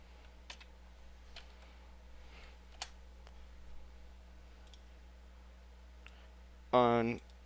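A computer keyboard gives a few sparse, faint clicks and taps against a quiet background while a stick figure is deleted in Flash, followed by a brief louder tonal burst at the end.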